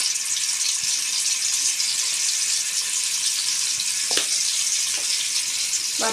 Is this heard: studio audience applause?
no